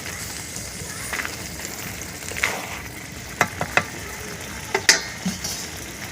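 Pumpkin laddu mixture stirred in a hot pan, a steady close sizzle with intermittent scraping strokes and a few sharper clicks of the spoon against the pan.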